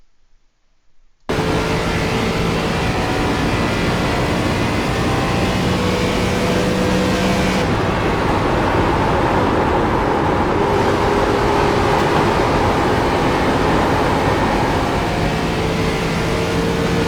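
ARCA race car engine on the Nashville Speedway oval in iRacing, a loud, steady drone heard from the cockpit with tonal engine lines that shift pitch through the lap, continuous for about sixteen seconds with no talking.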